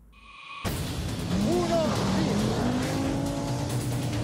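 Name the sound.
1983 Audi Quattro rally car racing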